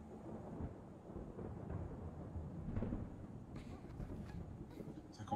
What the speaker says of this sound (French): Ça commence bien, fait de l'orage.